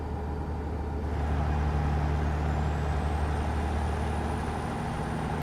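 A W9A modular day cab truck in American Truck Simulator, with its engine rumbling loud and steady as the throttle eases off and a thin turbo whine slowly glides downward above it, with no talking.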